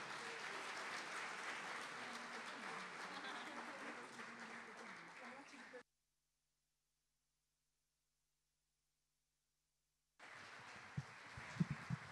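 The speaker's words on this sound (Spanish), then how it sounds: "Las recibimos con un gran aplauso" An audience at a Sunday folklore show marking a 17th anniversary applauds to welcome a female duo, steady clapping for about six seconds, then a sudden silence before the applause returns with a few louder thumps.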